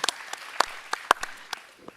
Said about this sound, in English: Give Fiona a round of applause to welcome her.